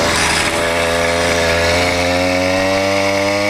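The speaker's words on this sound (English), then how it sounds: "But here, the clutch slipping." An 80cc motorized bicycle engine with a slipping clutch runs steadily and loudly up close, a buzzy, harmonically rich drone with a slight rise in pitch and no talking.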